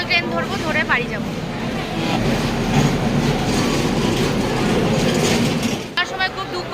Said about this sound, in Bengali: এখন আমরা লোকাল ট্রেন ধরবো, ধরে বাড়ি যাবো